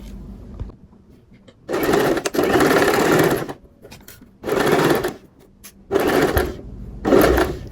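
A sewing machine stitches the side pocket of men's trousers, whirring in four loud, steady runs of a few seconds each, separated by short quiet pauses and handling noises.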